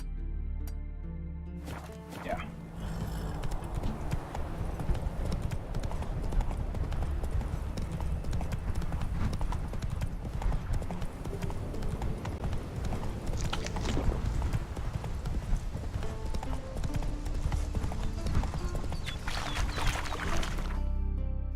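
Horse hooves clip-clop steadily in The Witcher 3: Wild Hunt, a continuous rhythmic trot that stays close and fairly loud for most of the stretch, with faint game ambience beneath.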